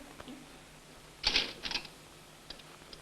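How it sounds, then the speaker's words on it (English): Old manual typewriter keys striking in a quick burst of clacks, followed by a few isolated taps, fairly close and alone over faint room noise. "Right, typewriter"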